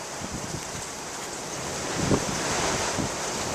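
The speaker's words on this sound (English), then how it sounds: "I hope the wind's not too loud now" Wind gusting on an island on a cold, wet day, a steady loud roaring rush of microphone buffeting that swells slightly partway through, with no voices.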